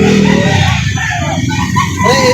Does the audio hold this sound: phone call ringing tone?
no